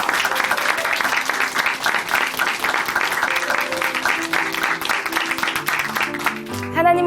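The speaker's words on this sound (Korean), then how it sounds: "다시 한번 큰 박수 보내드릴게요." A church congregation applauds warmly and continuously, a dense clapping wash with a faint tonal backdrop, and music swells in at the very end.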